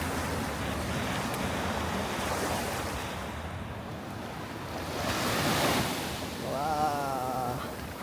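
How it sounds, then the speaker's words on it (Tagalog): Powerful ocean surf rolls and crashes on a Maui beach, a continuous roaring wash that swells and recedes, buffeted by wind noise, with no talk over it. "Ang lakas ng alon."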